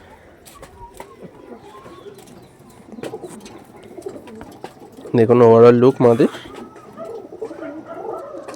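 A Kaldom pigeon coos in a short, loud burst of about a second, standing out clearly over someone talking close by.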